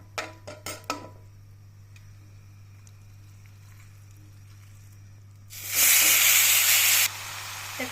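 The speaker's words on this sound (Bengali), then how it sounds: "আমি চিকেনগুলো হালকা ফ্রাই করে নিব" Chicken pieces hit a hot pan and fry for a restaurant-style chicken chuka. A few faint clicks come first, then a loud, close sizzle bursts out for about a second and a half and eases to a steadier hiss.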